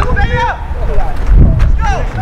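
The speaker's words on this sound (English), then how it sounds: "Wind picked up some" Wind gusting across an outdoor high school baseball field during a 2019 Patterson vs Mervo game, rumbling and buffeting low and steady beneath a voice talking throughout.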